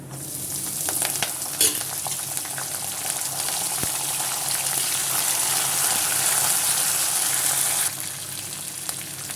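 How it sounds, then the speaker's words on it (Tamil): Green chillies and curry leaves sizzling in hot oil with golden cashews and chana dal, a steady loud frying hiss that holds for several seconds, with brief clinks of stirring and no talk. "இப்போ வந்து நம்ம பச்சை மிளகாவும் கருவேப்பிலையும் சேர்த்துக்கலாம்"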